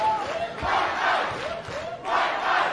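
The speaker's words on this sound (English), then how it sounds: "He knows that this entire room is cheering him on." A wrestling crowd in an indoor room at Wrestlecade The Day After cheering during a title match, loud rhythmic chanting that rises and falls in repeated surges.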